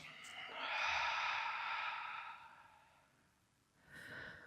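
A long exhale out through the mouth during a beginner yoga session, a soft breathy rush lasting about three seconds, followed by a shorter second breath, close and fairly quiet with no talking.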